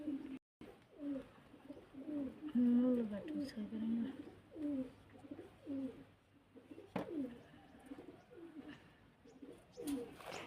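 Pigeons coo close by in repeated soft, throaty phrases, one after another in a steady rhythm, with a brief clatter partway through.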